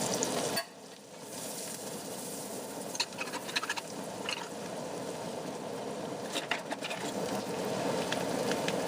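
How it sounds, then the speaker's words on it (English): A shallot fries in a tablespoon of butter in a pan with a continuous bright sizzle. It starts abruptly and carries light spattering pops and occasional stirring taps. "In a tablespoon of butter, fry a shallot."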